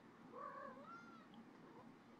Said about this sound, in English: And this is my cat.